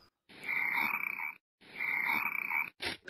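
A frog croaks in a cartoon animation of frog metamorphosis: two long, loud, buzzing croaks separated by a short gap, then a brief third croak, all alone with no voices.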